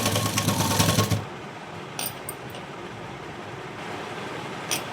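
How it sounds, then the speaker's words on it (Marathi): A sewing machine stitches fabric for a latkan tassel in a loud, close, steady mechanical whir for just over a second, then stops, leaving faint background noise and a few small clicks. "इथे शिलाई देऊन घेऊया"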